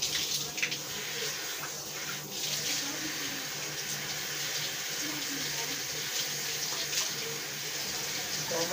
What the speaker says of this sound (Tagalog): Sarap ng tubig mo, mainit.